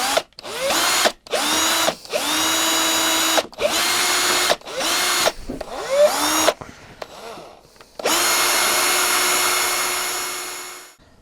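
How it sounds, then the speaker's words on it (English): A drill bores into the metal of a vintage toy steam engine in a series of short whining bursts with brief pauses between them, ending in one longer continuous run, close and clear. "So I'm going to try and drill it"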